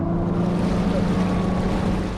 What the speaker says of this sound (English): The 250 horsepower engine roars through Lake Guntersville.